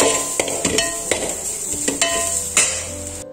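Grated coconut and peanuts are dry-roasted in a pan, with a dry rustling hiss broken by repeated close spatula scrapes and clinks against the pan, and no one speaking.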